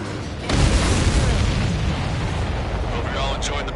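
Explosions in the Ace Combat video game erupt in a heavy boom after a brief quiet, then roll on as a dense, loud rumble with smaller bursts crackling through.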